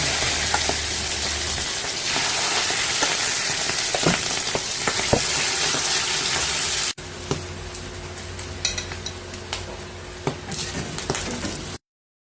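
An egg omelette with tuna, malunggay and shredded carrot fries in a pan, a steady close sizzle with occasional spatula taps and scrapes as it is flipped, ending abruptly.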